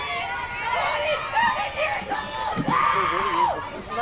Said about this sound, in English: The Golden Eagles bench, which has been relatively quiet this evening, now up on their feet cheering their players